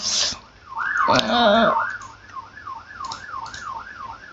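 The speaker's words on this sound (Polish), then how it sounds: "I cały czas słyszę te policje, że jadą." Wailing police siren from the Roblox game Brookhaven rises and falls steadily and repeatedly at moderate distance, briefly masked near the start by a short burst of voices and other game noise.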